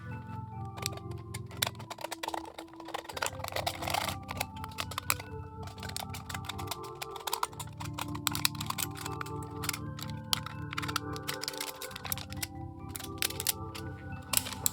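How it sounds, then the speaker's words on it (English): Scissors or a blade cutting through an aluminum Coke can, a dense run of small crisp clicks and metallic snips with a low steady hum underneath, pausing briefly every few seconds. "you can take a Coke can, cut both the bottom of the can off and the top of the can off"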